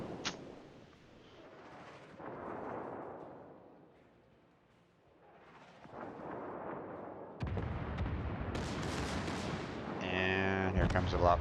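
In the naval battle game World of Warships, torpedoes strike a destroyer with booming explosions and rumbling blasts that swell and fade, ending in loud crackling impacts, under a player's voice.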